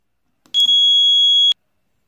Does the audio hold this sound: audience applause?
no